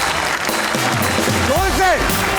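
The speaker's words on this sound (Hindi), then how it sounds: "सबसे पहले ऑडियंस तालियां जोर से जोर से" Studio audience clapping on a comedy talk show fills the short stretch as a dense, steady patter, with a man's loud, drawn-out voice rising over it.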